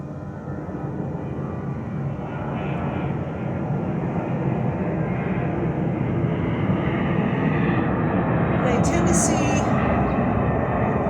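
An airplane flies overhead as a steady, broad engine roar that slowly swells over about eleven seconds, fairly loud throughout with a faint high chirp near the end and no clear speech.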